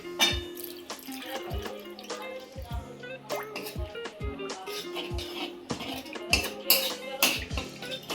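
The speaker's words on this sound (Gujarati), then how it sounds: "તેમાં આપણે જરૂરિયાત પ્રમાણે પાણી એડ કરી દઈશું" Water poured into a crushed mixture while making Ratlami sev gravy, heard as a series of close drips and splashes in an uneven rhythm, with no talk over it.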